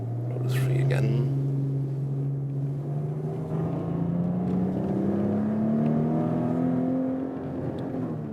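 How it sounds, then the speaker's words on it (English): A Maserati Ghibli SQ4 with a 3.0-litre 410 hp V6 accelerating on the road, its engine note rising steadily in pitch as it pulls through a gear, heard from inside the cabin. "A lot of fun to drive the car"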